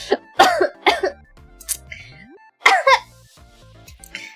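A few short, harsh coughs and throat-clearing bursts from someone who swallowed saliva down the wrong pipe, close up, with small pauses and a faint tonal sweep between them.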